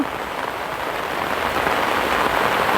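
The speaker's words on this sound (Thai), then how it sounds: "ตอนนี้ก็ฝนตกลงมาพี่น้องเลย ฝนตกลงมาแล้ว" Rain pours down steadily outdoors near a bathroom under construction, a loud, even hiss of drops on surfaces with no pauses and no voices.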